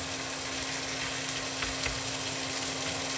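Spare ribs go into a pan of frying onions in a condo kitchen, giving a loud, steady, continuous sizzle with a faint low hum underneath and no talking.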